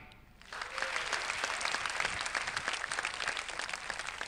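Audience clapping at a music competition show, applause swelling in after a brief quiet moment, then steady rapid clapping, fairly loud and sustained with crowd murmur beneath.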